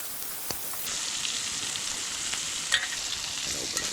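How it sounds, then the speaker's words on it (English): Burgers fry in a pan over a campfire at a remote Alaska camp, giving a steady broadband sizzle that jumps louder about a second in and holds, with a few faint clicks and no talking. "We're gonna get the pan out now and make some burgers."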